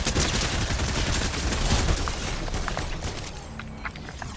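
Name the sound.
gunfire in the video game Fortnite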